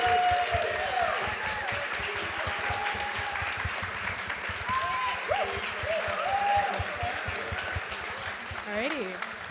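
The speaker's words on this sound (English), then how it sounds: "so we can all give you a big round of applause" Audience at a film screening and discussion applauding the behind-the-scenes team, a steady wash of clapping that runs throughout, with voices and whoops mixed in.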